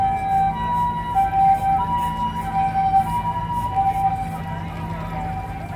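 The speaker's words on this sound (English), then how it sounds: "we happen to have a lot of ambulances and fire engines going past" Ambulance and fire engine sirens wail steadily through busy street noise near Shibuya Scramble in Tokyo, with a continuous tonal warble over traffic rumble and distant voices.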